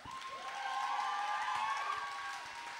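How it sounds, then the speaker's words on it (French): Applause and cheering from the audience at the Belgian final of Imagine, a broad steady wash of clapping that swells and holds for a few seconds, fairly quiet and a bit distant. "Gros applaudissements pour Azerty."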